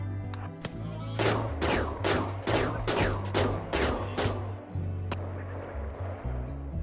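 Rapid bursts of gunfire from a firefight in the colony-building video game RimWorld, several sharp loud volleys in quick succession over a low steady game hum, then a single late shot.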